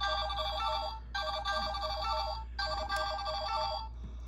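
Electronic button sounds from a Power Rangers Samurai Morpher toy: three bursts of a bright, warbling ringtone-like chime, each about a second long with short gaps, loud and close with a faint hum beneath.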